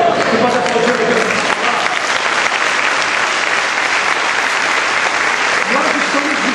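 A church congregation applauds loudly and steadily throughout, dense clapping with a crowd murmur, joined near the end by faint voices.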